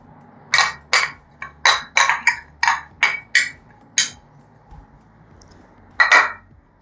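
A paneer cutlet mixture is moved into another bowl: a quick series of about a dozen sharp, close metallic taps and clinks of a spoon against a steel vessel, then a pause and a final pair of knocks.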